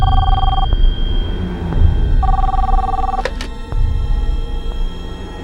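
A telephone rings in a tense crime-drama scene, its electronic ring tone sounding in two clear bursts with a pause between, close and fairly loud over a low background rumble, with no talking.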